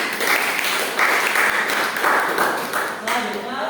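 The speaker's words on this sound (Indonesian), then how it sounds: "beri aplaus untuk kelompok 4" A classroom group claps for a presenting team, steady dense applause from many hands that holds for several seconds and eases toward the end, with voices mixed in.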